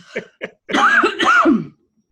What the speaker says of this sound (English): Not a COVID cough, just a dust cough.